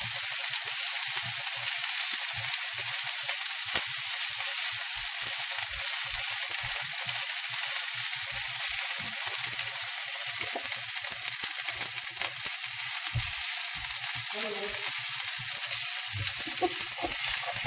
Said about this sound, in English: You just mix them like a minute or two.